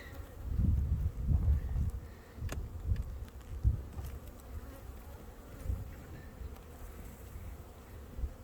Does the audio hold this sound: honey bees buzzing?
yes